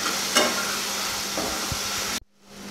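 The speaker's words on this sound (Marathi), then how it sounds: "कांदा, आलं लसूण कोथिंबीरीची पेस्ट, मिरची, हळद हे मिश्रण चांगलं असं एकसारखं परतून घ्यायचं" Onion, ginger-garlic-coriander paste, green chilli and turmeric sautéing in a pan for green mutton, a dense continuous sizzle with a couple of stirring scrapes, ending suddenly.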